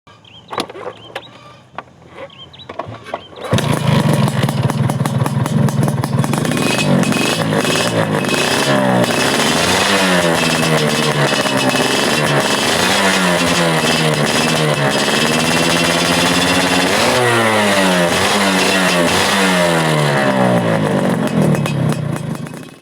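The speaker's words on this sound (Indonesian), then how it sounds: "Dan sekarang kita akan mendengarkan suara mesin ini yang dipadukan dengan knalpot AAM." A Suzuki Satria 120R two-stroke engine fitted with an AAM exhaust revs hard and loud after a few quiet seconds, its rasping note climbing and falling in repeated sweeps while staying steady and close.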